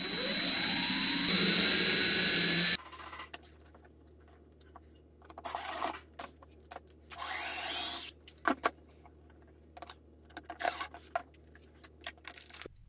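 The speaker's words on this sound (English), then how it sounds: "So I'll drill a little pilot hole and screw it on." A power drill whines loudly into wood for a few seconds drilling a pilot hole on an arcade cabinet, then stops; later come short bursts of drilling and scattered clunks of handling.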